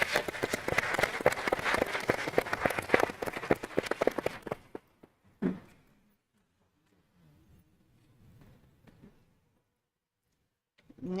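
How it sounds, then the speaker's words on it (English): Applause at a school board meeting for academy participants: a dense burst of clapping from the audience fades out after about four seconds, followed by near silence with a couple of faint knocks and shuffles. "So let's give them a round of applause."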